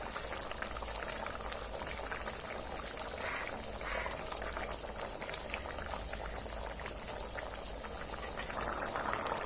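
An egg and potato curry simmers in a pan in a home kitchen, giving a continuous soft bubbling and crackling boil, fairly quiet and steady, with no speech.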